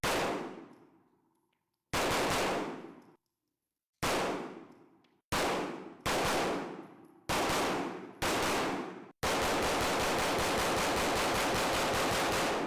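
Stealth Arms Platypus pistol fired in a series of loud, sharp shots with ringing decays, then a fast rapid string of shots at the end.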